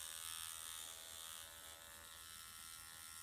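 A Dr Pen M8s microneedling pen buzzes steadily against skin, a thin high electric whine held close and quiet for a few seconds with no talk.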